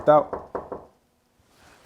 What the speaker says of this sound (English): he's knocking at the door right now